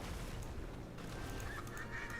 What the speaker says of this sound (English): Dang it, I keep killing ducks.